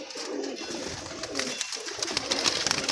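Kamgar and Sialkoti pigeons coo in soft repeated calls over a steady hiss of background noise, close by, with no talking.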